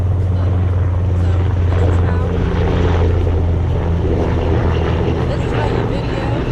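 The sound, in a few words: airplane flying overhead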